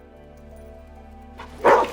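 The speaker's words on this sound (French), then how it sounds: "c'est le chien de Mikey" Mikey's dog gives a single short bark, close and fairly loud, coming suddenly after a stretch of low steady hum.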